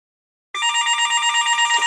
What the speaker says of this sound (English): Getting a lot of phone calls.